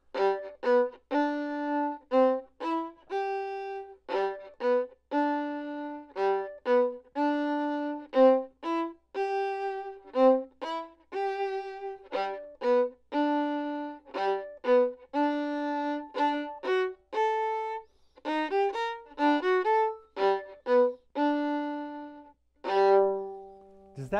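Fiddle plays a chain of ascending arpeggios at a slow, steady metronomic tempo, each bowed note sustained and evenly spaced, solo and close with no talking.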